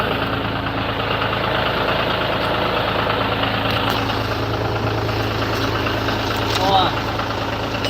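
Old John Deere tractor engine idling, a steady close low rumble running throughout with no break.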